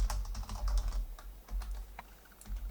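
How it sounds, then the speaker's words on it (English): Typing on a computer keyboard while entering column headings into an Excel spreadsheet, a quick run of soft, close keystroke clicks with brief pauses, heard alone. "So we'll type name, followed by sales, followed by sales commission."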